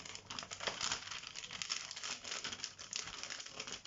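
Thin paper, like newspaper, being crumpled and crinkled by hand in a quick, continuous run of close, crisp rustles.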